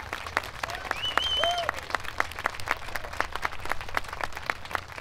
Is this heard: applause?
yes